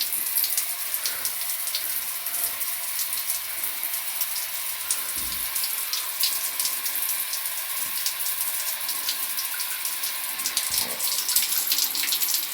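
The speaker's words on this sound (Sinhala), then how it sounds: "රස්නේ වතුර." Hot water runs steadily from an instant electric hot water shower in a bathroom, a continuous close hiss of flowing water with no talk.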